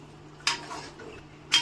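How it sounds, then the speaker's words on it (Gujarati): A spoon stirring paneer butter masala gravy in a metal pan, two sharp clinks against the pan's side about a second apart over a soft scraping, close and alone. "હવે હું આને મિક્સ કરી દઈશ."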